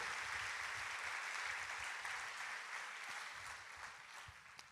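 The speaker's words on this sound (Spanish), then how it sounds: "Si va a aplaudir al Señor, hágalo con toda su fuerza, por favor." Steady applause from a church congregation fills the whole stretch, even and dense, slowly softening toward the end.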